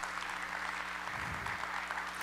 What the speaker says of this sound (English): please stand up and give them a big round of applause